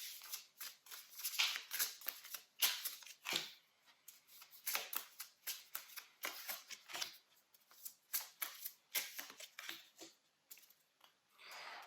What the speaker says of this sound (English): I'm going to start off by pulling some oracle cards.